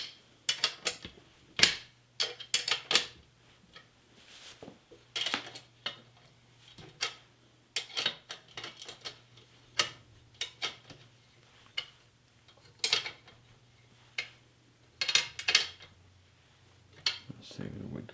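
A carriage bolt on a HuntPac seat is tightened by hand, giving sharp ticking clicks in irregular bursts, close and fairly faint over a low steady hum.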